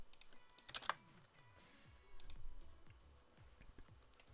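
Soft keystrokes on a computer keyboard tap out a short, irregular run, close to the microphone and quiet, with a few faint clicks.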